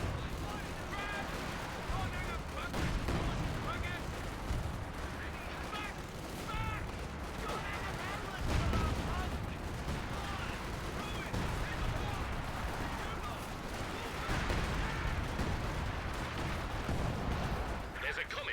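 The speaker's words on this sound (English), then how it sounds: "Artillery barrage starting as ordered." An artillery barrage from the Company of Heroes 2 video game, a 4v4 match, rumbles on without letup: dense, loud thuds and crackling blasts overlap, with a few sharper booms, while game voice lines speak over them.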